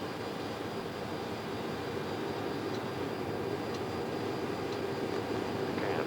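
An RAF VC-10 jet droning steadily in flight during refuelling trials, a continuous broadband engine roar heard from inside the aircraft with no pauses.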